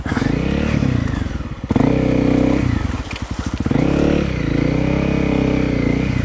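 A Honda CRF250L Rally motorcycle pushes through dense overgrown brush on a trail, its engine droning loud and close with throttle dips and surges while branches scrape and clatter against the bike.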